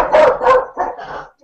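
A dog barks indoors during a podcast recording, three or four close, sharp barks in quick succession over about a second and a half, loud and alone with no talk over them.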